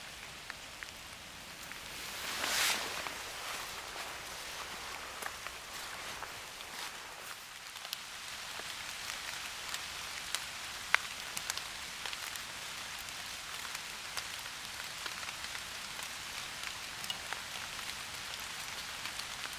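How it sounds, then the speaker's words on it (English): Steady rain patters on leaves and ground in woodland, forming a soft, even, continuous hiss with scattered drip taps and a brief louder rustle near the start, and no voices. "And here comes the rain."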